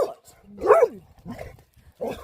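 A puppy barks and yips excitedly in short, sharp bursts at close range. A person talks between the barks, and the setting is an outdoor winter camping trip.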